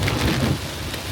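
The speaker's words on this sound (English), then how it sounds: "There's a lot of rain out there." Heavy rain pouring outdoors during a storm in North Carolina, a dense, loud and unbroken wash of falling water with a deep low rumble underneath.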